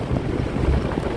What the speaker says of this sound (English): it's very windy and rainy